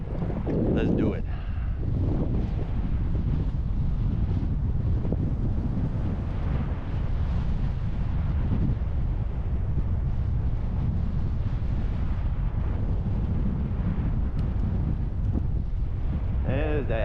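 Strong headwind roars across the microphone during a ride on a Brompton folding bike through a quiet Japanese farming town, a loud, continuous rushing buffet that covers the whole stretch with no talk.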